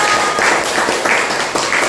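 A classroom of schoolchildren claps hands together in short, rhythmic bursts, a few beats each second, fairly loud and close, with no voices over the clapping.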